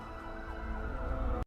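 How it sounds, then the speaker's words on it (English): Emergency sirens wail in an animated Batman vs Robin film, a steady rising and falling tone with engine rumble beneath, cutting off abruptly at the end. "They hear sirens, so Batman says it's time to clear out."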